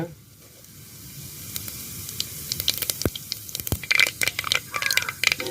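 Mustard seeds and cumin sizzle in hot oil, with sharp crackles and pops that grow louder and busier toward the end, close and without speech.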